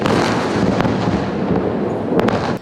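Intercepted missiles explode in the night sky over Israel during a Hamas barrage: a continuous, loud, rumbling roar of blasts, with a couple of sharper cracks near the end.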